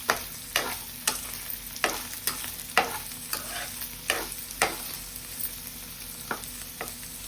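Vegetable pieces tossed with turmeric in hot oil, with a quiet sizzle under a brisk series of spatula scrapes and clacks against the pan, repeating roughly twice a second, close by and without talk.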